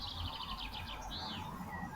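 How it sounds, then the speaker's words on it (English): Great tits on a Wiltshire estate with dead trees give repeated high, bright chirping phrases, fairly faint and distant, over a low rumble of outdoor background noise. "The familiar great tits are one of the smaller birds using holes in the dead trees on the estate."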